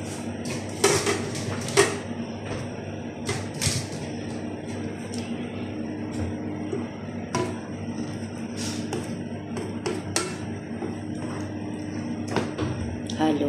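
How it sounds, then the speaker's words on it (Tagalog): Vegetables dropped into a cooking pot for ginataang malunggay and stirred, with repeated clanks and taps of a metal spoon against the pot over a low steady hum. "Ilagay na natin tong ating mga gulay. Marami ako natirang gulay dito. Ilahok-lahok na lang natin."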